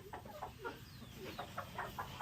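Native country chickens follow close behind someone walking, letting out a quiet string of short clucks at an uneven pace.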